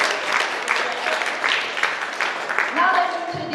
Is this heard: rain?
no